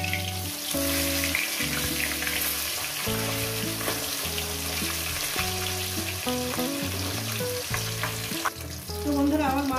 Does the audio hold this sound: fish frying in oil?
yes